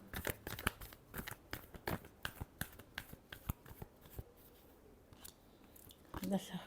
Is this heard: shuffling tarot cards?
yes